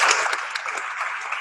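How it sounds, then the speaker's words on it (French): Brief burst of audience clapping for conference panelists at a heritage event, a short, moderately loud patter of many hands. "On applaudit nos panélistes."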